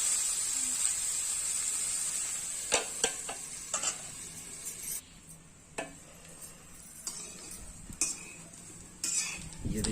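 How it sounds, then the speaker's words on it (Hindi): Jackfruit fries in mustard oil in a pan for a Chhattisgarh-style kathal sabzi, a steady sizzle broken by repeated metallic scrapes and clinks of a spoon stirring against the pan, close and clear without talk. "तो थोड़ा सा और तल लेंगे।"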